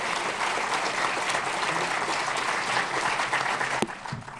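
Audience at a panel discussion applauding steadily, a dense clatter of many hands filling the room before tapering at the end.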